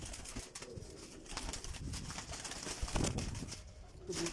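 Pigeons of a fancy breed coo softly in a loft, low throaty calls repeating under a busy background of rustling and movement noise, fairly faint overall.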